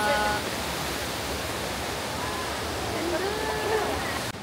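Steady broadband rush of splashing water from a fountain in Rome, filling the whole clip with faint tonal sounds drifting through the background.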